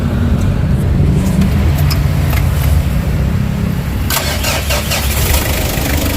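A Mitsubishi L300 Versa Van engine cranks and fires up, its loud mid-pitched motor holding steady into a rough idle, with brief clicks and rattles near the end and no talk over it.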